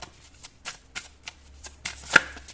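Tarot cards are shuffled by hand before another card is drawn, giving a quick series of crisp riffling flutters and taps, close and clear, with no talking.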